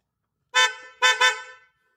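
Dual contact car horn on a Toyota Avanza blares in three loud, close-up honks: one short blast, then two more in quick succession, with no other sound around them.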